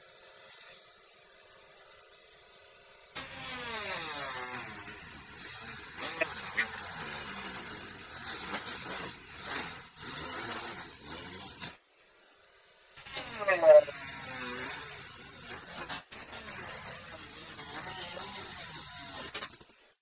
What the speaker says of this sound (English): Those we can Dremel.